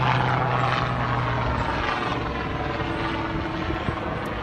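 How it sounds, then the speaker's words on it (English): A helicopter passes overhead outdoors beside a 2018 Mitsubishi Outlander Sport SE, a steady mid-distance rotor drone with a low hum that holds throughout and fades slightly toward the end, no talking. "there was a helicopter going above me"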